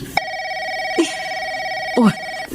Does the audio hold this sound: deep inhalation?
no